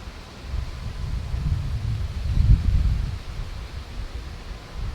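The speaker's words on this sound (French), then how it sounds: "Et là on a un vent." Steady wind gusts buffet the microphone at a riverside spot during a white-fish feeder fishing session, a low broadband rumble that swells to a stronger gust mid-way, then eases.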